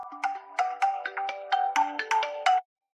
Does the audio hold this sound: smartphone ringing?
yes